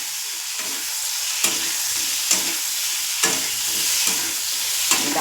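Tomato and onion frying in oil, a steady close sizzle with a few sharp stirring scrapes spaced about a second apart, no voices.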